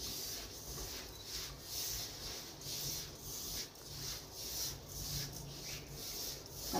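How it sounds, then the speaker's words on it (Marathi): Semolina (rava) is worked by hand into sticky jaggery, making a steady rhythmic gritty rubbing with regular pulses, close and fairly faint. "आता इथे घेतला आहे 1 वाटी रवा, हा मिक्स करून घ्यायचा चांगला।"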